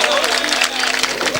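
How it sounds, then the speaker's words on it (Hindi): A mushaira audience breaks into a short, loud burst of dense clapping and crowd noise. "एक बार पूरी महफिल तालियां बजा के बताए ना"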